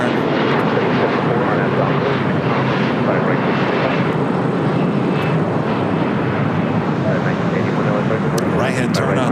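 An airliner taxis at LAX, its jet engines giving a loud, sustained roar that stays steady throughout, with a voice speaking faintly beneath it.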